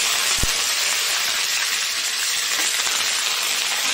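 Curry leaves dropped into hot oil with cumin and bay leaf in a pan where coconut has been browning, giving a steady loud sizzling hiss that continues throughout, with a brief knock near the start.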